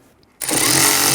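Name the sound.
10mm socket driving bracket bolts on Jeep kick panel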